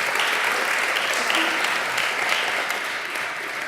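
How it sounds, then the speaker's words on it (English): An audience at a talk applauds warmly, a dense sustained wash of clapping from a crowd that holds steady and begins tapering near the end. "Can we give Dennis a round of applause?"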